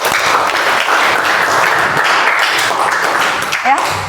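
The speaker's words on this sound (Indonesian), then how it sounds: "Berikan aplaus untuk kelompok 1." Sustained applause from a group in a classroom-style gathering, dense clapping holding steady for about four seconds at close range, with a brief voice rising near the end.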